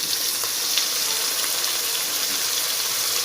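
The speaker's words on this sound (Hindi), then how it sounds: "अब मैं इसमें झींगे डालूँगी, जो मैंने साफ़ करके धो के रख दिए थे।" Tiger prawns sizzle in a hot pan with scorched tomatoes and onions for prawn biryani, giving a steady, dense crackling hiss close up that holds without a break.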